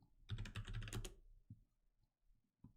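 Fingers tap out a quick burst of typing on a computer keyboard, a dense flurry of clicks followed by a couple of isolated keystrokes, close and fairly quiet.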